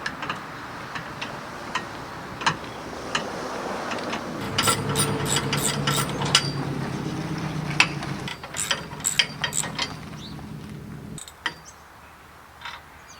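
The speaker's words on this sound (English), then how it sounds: "we'll just be using a 14mm socket and just undoing these bolts right there" A 14mm socket on a ratchet loosens bolts on a trailer jack, producing close, sharp ticking clicks in irregular bursts, with scraping and creaking of metal parts.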